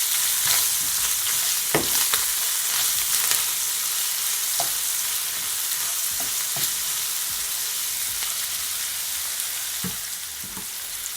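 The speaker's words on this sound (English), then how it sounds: "Give it a stir." Seasoned saltfish fried rice with coconut sizzles steadily in a pan while a utensil stirs it, giving occasional scraping clicks over the constant frying hiss.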